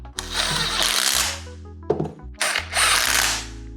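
Bolts on a differential output shaft are run down with a powered ratchet, two loud close whirring bursts separated by a brief clicking pause, no voices.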